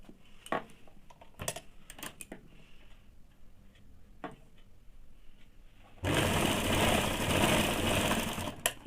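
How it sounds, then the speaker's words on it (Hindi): A sewing machine stitches the shoulder seam of a blouse, first with scattered sharp clicks and taps, then running steadily in a loud continuous whirring burst for the last few seconds. "पीछे के ऊपर इस प्रकार से रख के दोनों सीधा हिस्सा अंदर के तरफ रख के इसे 1/2 इंच में सिलाई कर लेंगे।"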